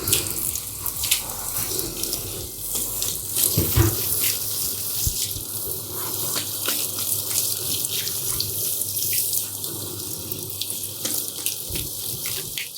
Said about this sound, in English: once you finish washing your hair and rinsing